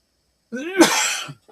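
A single close sneeze: a short voiced intake, then a sharp, breathy burst that trails off quickly.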